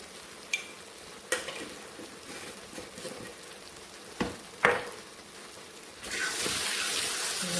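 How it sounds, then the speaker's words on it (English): Mutton fries in a pan with red chili powder and turmeric, a spoon scraping and clinking through a few distinct stirs before a louder, steady sizzle swells near the end. "Just give it a good stir."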